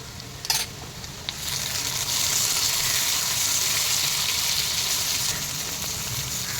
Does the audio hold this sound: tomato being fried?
yes